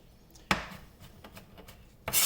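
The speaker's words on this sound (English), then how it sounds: "Just take your knife and give it a nice smash, pull back" A kitchen knife smashing garlic on a wooden cutting board, one sharp thud followed by light scraping and rubbing, then a second loud impact at the end.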